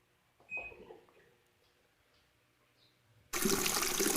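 A few faint clicks and taps, then a sudden loud rush of water pouring in steadily as an Electrolux EWT705WN automatic washing machine fills, close by and continuing to the end.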